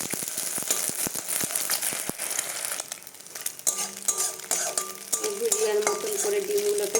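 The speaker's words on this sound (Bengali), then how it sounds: "এই যে কড়াইয়ে তেল দিয়ে দিচ্ছি, গরম হয়ে গেছে, ডিমটা দিয়ে দেবো।" An egg fries in hot oil in a wok, giving a steady crackling sizzle with bursts of spatter, sharp clicks and light scraping of a utensil, with no voices.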